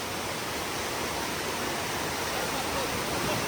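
A waterfall at Adai village near Panvel pours with a constant, dense hiss and roar, loud and close throughout with no pauses.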